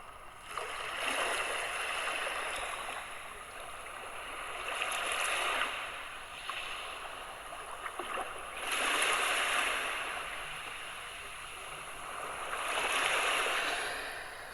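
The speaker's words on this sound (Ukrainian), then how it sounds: "Шум хвиль заспокоюють наш розум, наше серце." Waves roll in and wash out in slow, rhythmic surges every few seconds, a soft steady hiss of surf between them.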